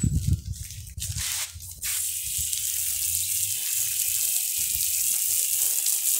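Water poured steadily into a cement mix for making bricks, a continuous close splashing hiss that runs the whole length, briefly rougher near the start.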